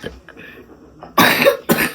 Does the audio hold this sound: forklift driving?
no